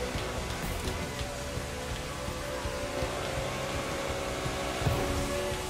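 Steady rain hisses over a drive through New Jersey in The Crew 2 aboard a Porsche GT car, a dense, continuous wash with faint engine and road noise underneath.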